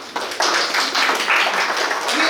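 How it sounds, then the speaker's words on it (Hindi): Audience clapping at a Hindi-language session on accelerators and incubation for students and faculty, a steady patter of many hands starting abruptly and continuing at even loudness for a couple of seconds. "अच्छी लगी तो ताली मार दीजिए एक बार फिर"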